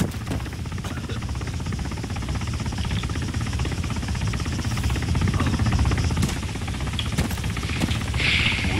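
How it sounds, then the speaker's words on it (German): An approaching helicopter in the video game Arma 3 gives a steady, dense rotor drone that swells slightly, heard alone without talk. "Hey, da ist der Heli."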